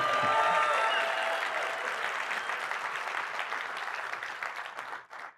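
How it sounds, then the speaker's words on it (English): Sustained applause from a large conference audience, loud and dense at first, gradually thinning out before fading away near the end. "Let's give a big round of applause for the JobTread team."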